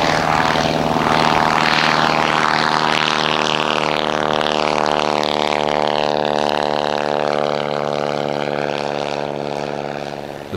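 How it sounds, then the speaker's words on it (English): A First World War Bristol Fighter F2b aircraft runs its engine, giving a loud, steady droning tone with a strong propeller buzz that holds evenly and eases slightly toward the end, with no talk. "The Bristol Fighter, or the BrisFit,"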